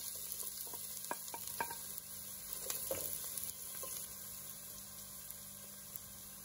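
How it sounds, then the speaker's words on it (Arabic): Chopped onions fry in ghee in a pot as they are stirred, a faint steady sizzle under a low hum, broken by a few soft scraping clicks in the first half and no speech. "بضيف معلقتين سمنة، حبتين بصل مفرومين، قلبهم وبستنى حتى تدبل البصلة عندي."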